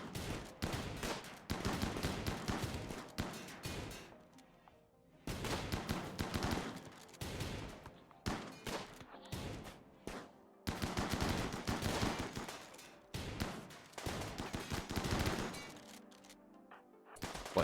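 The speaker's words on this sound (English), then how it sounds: "What, they have like long distance shotguns?" Shotgun fire in the video game RimWorld, with repeated bursts of loud gunshots and rapid volleys broken by brief silent gaps.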